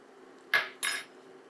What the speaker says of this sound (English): We're going to add in some minced garlic.